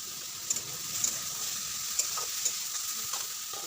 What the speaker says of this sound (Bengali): দেখো বন্ধুরা আমার দিয়ে গাজরটা ভাজা হয়ে গেছে